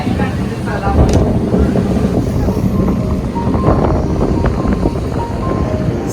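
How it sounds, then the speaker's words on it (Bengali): A boat heads toward Sand Island in the Maldives, with a loud, blustery rush of wind and water over a low hull drone, and a faint voice partly buried under the noise. "সো আমাদের বোট এখন যাচ্ছে স্যান্ড আইল্যান্ডের দিকে।"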